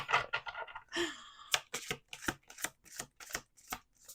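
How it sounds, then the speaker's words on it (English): Cards are riffled and then snapped in a quick series of crisp, evenly spaced flicks, close up with no talking. "This deck is so easy to shuffle"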